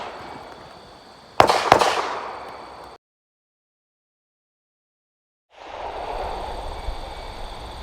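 Two sharp, loud gunshots from a Glock 34 pistol firing 9mm handloads crack in quick succession outdoors over background hiss, followed by a cut to silence and then ambient outdoor noise returning.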